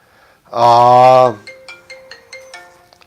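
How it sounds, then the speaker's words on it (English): A phone ringtone goes off during a live stream, opening with one loud, sustained buzzy tone for nearly a second, then a quicker run of short, softer electronic notes, all close and with no talking over it. "My phone is calling."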